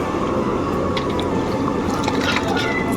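Water pours steadily onto rice for cooking, giving a loud, constant rushing splash with faint drips and voices talking underneath.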